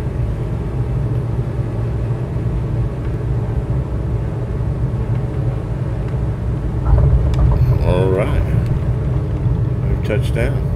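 A Diamond DA62 twin-engine aircraft touching down on a runway in Microsoft Flight Simulator 2020, with a steady engine drone and a louder rumble at contact, heard under a voice speaking.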